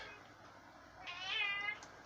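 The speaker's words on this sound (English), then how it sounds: "you can hear my cat now has come into the room and decided he wants attention" A single drawn-out cat meow rises and falls over a quiet room background, fairly faint and slightly distant.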